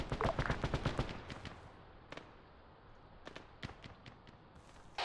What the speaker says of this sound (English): Area is currently hot, crawling with HMG fire.